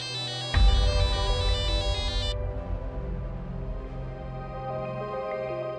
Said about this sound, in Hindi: काम्या, तुम्हारा फोन कौन है यार?